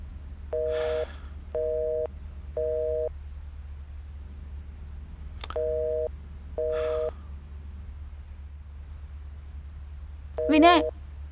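A telephone with no signal gives a busy tone: repeated short, even beeps in a steady on-off rhythm, with a faint low hum beneath and a brief voice near the end.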